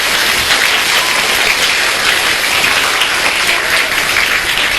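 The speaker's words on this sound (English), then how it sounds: "Give him a round of applause, guys." Loud, sustained applause from a crowd, continuous clapping at even intensity throughout with no talking.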